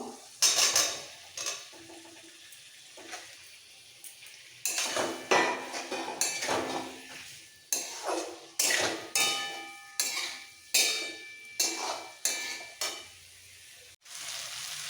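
Pointed gourd and potatoes are sautéed with spices and green chili paste in a pan, with repeated scraping strokes of a spatula against metal, each followed by soft sizzling, roughly one stir per second, close and clear, no talking.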